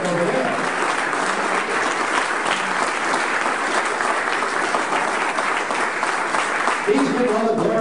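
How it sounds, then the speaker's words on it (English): Steady, fairly loud round of applause from an audience, continuous clapping filling nearly eight seconds with a hint of voices near the end. "How about a nice round of applause for Mrs. Lalor?"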